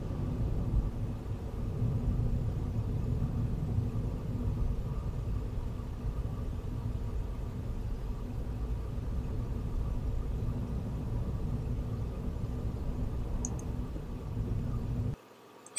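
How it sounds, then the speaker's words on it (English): Steady low engine drone from a car engine braking down a steep 1 in 7 (14%) descent from the Cotswolds to Dursley, continuous and even for the full length before cutting off abruptly near the end. "Engine braking was used on this descent."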